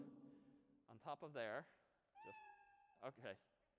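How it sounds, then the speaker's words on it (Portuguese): A series of cat meow sound effects played in Scratch, several short mewing calls in a row, loud and close, with a steady electronic tone in between. "eu vou em frente e toco o miado de som até que seja feito"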